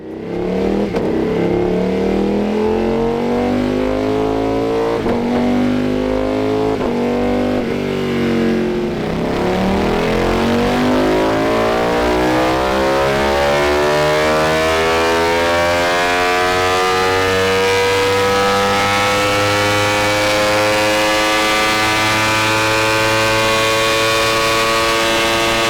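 A Ducati Panigale V4S superbike with its catalytic converter removed and a custom ECU remap, revving hard and loud at close range, the engine note rising and falling and then holding a long, sustained high-rpm wail.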